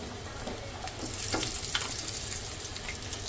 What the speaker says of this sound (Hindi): ये सब फ्राई करते हैं।